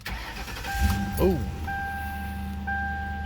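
Ford Crown Victoria turned over with the key after a coil connector repair, a short crank then a steady idle hum with a faint tonal whine, while someone briefly speaks.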